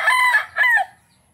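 A fighting rooster crows nearby in a loud, strained call that breaks into two parts, then falls silent.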